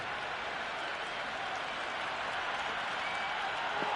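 Dense, steady roar of a cricket crowd cheering and applauding at a T20 match between Chennai Super Kings and Peshawar Zalmi, a continuous wash of claps and shouts with no break across the whole stretch.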